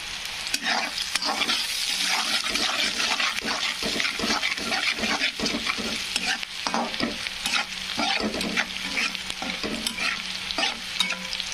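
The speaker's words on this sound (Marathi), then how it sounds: "छान असा कांदा फ्राय झालेला आहे" Onion fries in oil with salt in a pan, giving a loud continuous sizzle broken by frequent scraping stirs of a spatula against the pan, close up and without speech.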